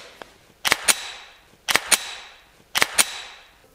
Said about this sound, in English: When you have a magazine with bullets that goes into the gun.